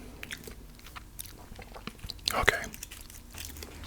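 A chocolate Easter bunny is bitten and chewed close to the mic, with soft crunchy bites peaking midway and a brief quiet spoken word.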